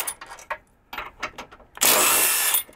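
A power tool removes the 16-millimeter tow hook bolts on a 2023 Jeep Grand Cherokee 4xe Trailhawk. A few short metallic knocks lead into one loud, sustained whirring burst close up, then a stop.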